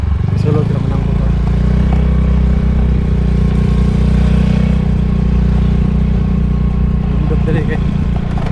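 A motorcycle engine runs steadily at close range on a road in Nueva, Cagdianao, giving a continuous loud drone. A person talks over the engine noise throughout.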